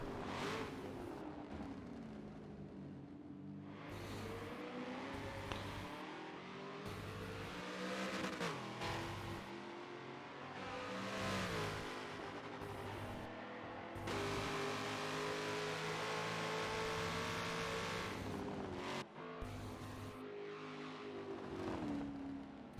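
An onboard race car engine on the final lap at Spa howls through repeated upshifts and downshifts, rising and falling in pitch as it accelerates and brakes. It runs loud and continuous and is heard close from the cockpit.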